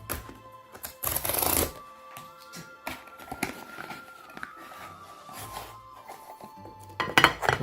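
Crinkly plastic wrapping and light tapping as a vegan Cassata ice cream cake package with chocolate, fruits and nuts is opened at an Indian bazaar in Fullerton, irregular rustles and clicks, fairly quiet and close, without talk.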